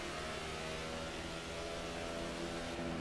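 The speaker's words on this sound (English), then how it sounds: "You can hear the car on the rev limiter" A stock car engine in a NASCAR 15 video game race at Bristol, held steadily on the rev limiter, makes a continuous droning whir with stacked harmonic tones, moderately loud and alone for about three seconds.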